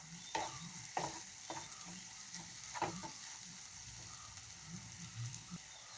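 Ingredients for daal fry sizzle quietly in oil in a pan, with soft scraping and stirring knocks from a spoon at irregular intervals over a faint steady frying hiss.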